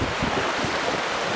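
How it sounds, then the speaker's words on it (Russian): Waves of the Baltic Sea wash against the shore at Liepaja on a calm day, a close, continuous surf hiss with wind rumbling across the microphone. "приятный шум воды у берегов моря"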